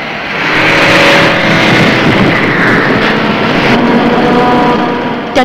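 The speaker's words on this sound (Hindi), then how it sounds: "गाड़ी बहुत तेज चला रही हो।" A car in a 1972 Hindi film is driven very fast, its engine roaring loud and close in a sustained, slightly wavering drone, with wind noise and no talk over it.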